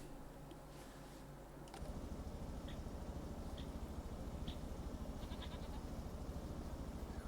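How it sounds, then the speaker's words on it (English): Goats in the Farming Simulator 25 livestock game bleat in a steady, dense chorus that swells suddenly partway through and keeps going without pause, with no talking over it. "We should have a couple of goats in there."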